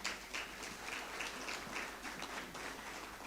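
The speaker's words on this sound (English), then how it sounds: "Round of applause to him." Audience applause at a US-Africa nuclear energy summit in Kenya, a faint, distant, steady patter of many people clapping that continues evenly.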